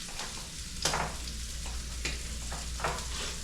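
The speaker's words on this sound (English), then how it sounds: "Put a little bit of coconut oil in the pan to get it going." Coconut oil sizzles steadily in a frying pan, a constant crackling hiss with a few sharper spits and scraping stirs rising above it, close by with no talking.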